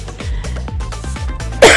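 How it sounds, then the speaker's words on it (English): A woman in the middle of a HIIT and strength workout coughs in a quick series of about six close, harsh bursts, loud and nearby, ending in a sharper, breathy rasp. "Still getting over this cough."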